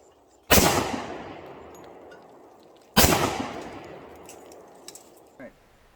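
Two loud, close pistol shots from a Rock Island 1911 ring out about two and a half seconds apart, each with a sharp crack and a long decaying echo, followed by a couple of small faint clicks.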